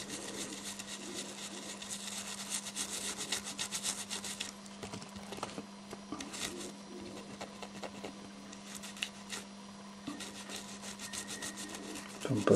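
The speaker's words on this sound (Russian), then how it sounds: "Берем спирт, все это зачищаем." Brisk scrubbing of a circuit board with alcohol inside an antique telephone that has a dead display. Close, rapid bristly rubbing strokes come in bursts over a steady low electrical hum, with no talking.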